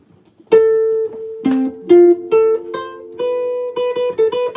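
An arpeggio played one note at a time on a keyboard-like instrument, a series of distinct plucked or struck notes stepping through a chord with short gaps, clear and close with no talking.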